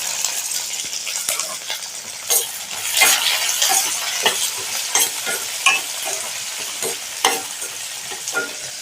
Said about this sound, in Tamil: சின்ன வெங்காயம் சேர்த்துக்கலாம்.